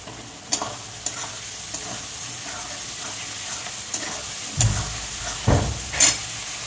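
Eggs fry and get stirred into a spice masala in a pan, with a soft steady sizzle under scattered utensil scrapes and clinks, a few louder stirring bursts near the end.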